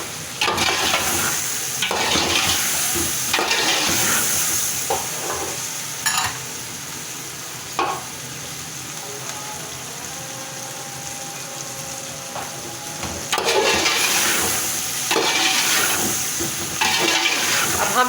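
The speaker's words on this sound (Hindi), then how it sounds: "अब हम ज़रा इन मसालों को ज़रा भूनेंगे।" Spices and turmeric sizzle and fry in a pan while being stirred for vegetable pulao, with loud bursts of hissing, scraping stirs that fade into a quieter simmering sizzle before flaring up again.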